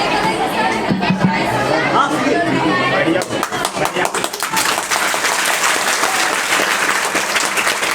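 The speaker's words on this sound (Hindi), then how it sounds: "सब तालियां बजा रहे हैं" An audience at a student performance for an Amrit Mahotsav celebration claps and chatters, a lively spread of applause under voices that swells into dense, crackling clapping about midway and holds steady to the end.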